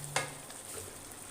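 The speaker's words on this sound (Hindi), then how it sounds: "लहसुन, अभी हमने इनको भी फ्राई करना है।" Garlic, ginger and green chillies with masala sizzle softly in ghee in a pan for a Chicken Kofta curry, a steady low frying hiss with one sharp crackle near the start and faint stirring scrapes.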